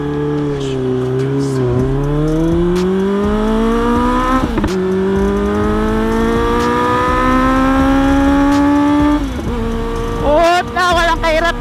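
A car on an open road accelerates hard from a standstill toward 100 and beyond, climbing past 140 to 160. The engine note rises steadily and loudly through each gear, with short dips at the shifts.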